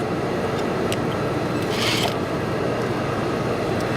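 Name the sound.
sewing machine stitching a Hong Kong seam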